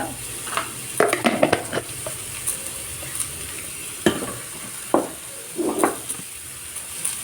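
Tomatoes with rock salt are stirred in a frying pan, a bright sizzle carried along by quick clusters of spoon scrapes and metallic clinks against the pan.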